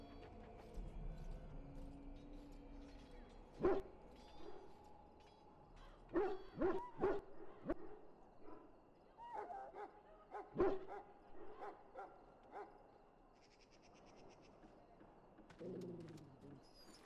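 Dog barks and whines in the fantasy role-playing game Dragon Age: Origins, with sharp close yelps in short clusters among softer whimpers over faint background ambience.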